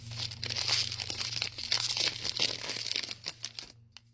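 Crinkly plastic foil of a Pokemon booster pack being torn and crumpled open at close range, a dense run of rustling and ripping that stops abruptly near the end.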